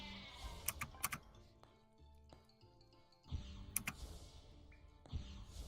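Sheep bleat in the Worms Crazy Golf video game, with several short, sharp cartoonish bleats among game clicks and effects at a moderate level.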